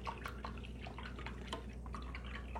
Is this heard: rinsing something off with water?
yes